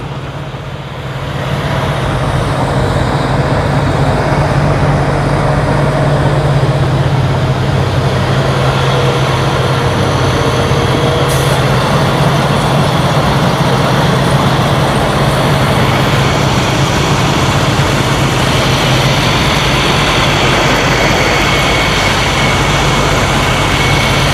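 A truck engine idles steadily at low revs with a deep, constant rumble, loud and close throughout.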